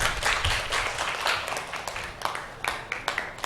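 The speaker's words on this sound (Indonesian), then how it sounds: "silakan beri tepuk tangan" A classroom group claps in a short burst of scattered applause, fairly quiet and lasting only a few seconds.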